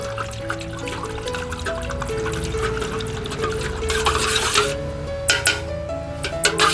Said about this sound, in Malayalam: നമുക്ക് നന്നായിട്ടൊന്ന് മിക്സ് ചെയ്യാം